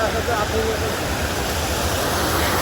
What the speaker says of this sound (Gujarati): અહીં તો પાણી પડતું હોય ને એટલે કેવી એમાં કેવો ઉફાળા પાણી મારે છે